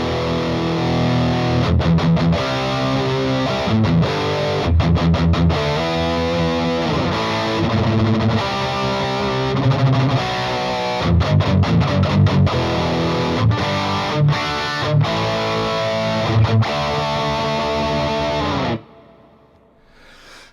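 An electric guitar played through a Bogner Ecstasy overdrive pedal into a tube-rectified Princeton amp rings out in loud, high-gain distorted chords and riffs with choppy rests, then cuts off abruptly near the end.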